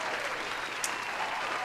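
A brief burst of applause sound effect played during a video game quiz podcast, a steady, even crowd clapping that fills the short moment without speech over it.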